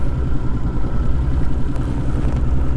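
A fishing boat engine idles on Lake Cumberland in winter, a close, steady, low rumble with a rough pulsing chug and some faint clatter, with no pauses.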